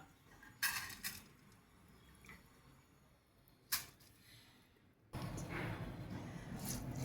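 Washed, soaked rice tipped into a pressure cooker in a home kitchen: a few faint clinks of a vessel, then a sudden steady rushing pour of grains, close and moderately loud.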